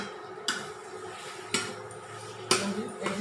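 Potato paratha filling is sautéed in a pan over hot oil, with three distinct scraping clatters of a spatula against the metal over a quiet, steady background, heard up close.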